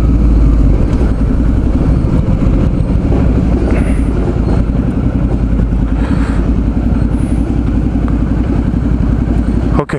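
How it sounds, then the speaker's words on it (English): Historic streetcar number 1078 rolling past on Market Street near 4th in San Francisco, a loud, steady rumble of wheels and motor close by with a few faint high squeals, no voices. "so that was the streetcar"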